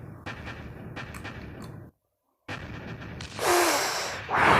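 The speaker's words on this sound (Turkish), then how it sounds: "patlama sesleri kulağıma çok geliyor" Booming explosions and gunfire bursts in a tank video game, loud and close, with a brief silent gap before a roaring blast swells near the end.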